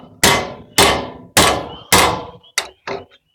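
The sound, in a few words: hammer hitting metal ear of a trailer jack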